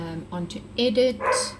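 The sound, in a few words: dog barking in the background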